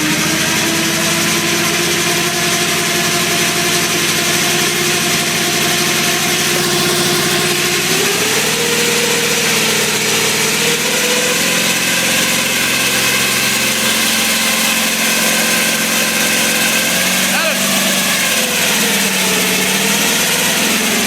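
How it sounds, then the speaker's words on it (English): A Wheel Horse C tractor with a snow thrower attachment idles loudly and steadily close by, its engine pitch dipping and shifting as the thrower is engaged, with no voices. "Ready? Yeah, go ahead and engage it."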